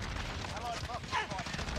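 Airstrike gunfire and explosions in the Modern Warfare video game, a dense rattle of rapid shots and muffled blasts running continuously, with some voice activity mixed underneath.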